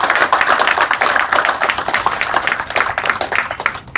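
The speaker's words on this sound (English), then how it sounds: "Can we give a round of fantastic applause for this?" A room of business people at a chapter meeting celebrating Diwali breaks into loud, busy clapping, a dense irregular patter of many hands that holds steady before thinning slightly at the end.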